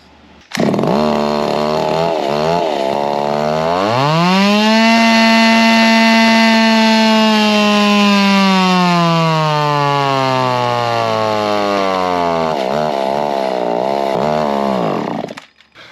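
A small Echo-based stroker engine of about 3 cubic inches runs on gasoline on a dyno, loud and close, revving to a high sustained whine that slowly sags in pitch before dropping back, with no speech.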